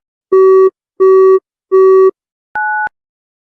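A telephone busy signal after a call fails to connect: three evenly spaced loud electronic beeps, then a single shorter, higher two-tone beep, against silence.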